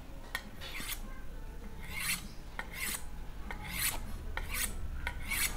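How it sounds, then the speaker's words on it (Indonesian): A knife blade is stroked across a grade 1000 Jianfeng sharpening stone, a close, dry rasping scrape repeated in a steady back-and-forth rhythm of about seven strokes. "Ini sharpening Jianfeng yang sudah saya haluskan pakai grade 1000 ya, jadi hasilnya lebih halus."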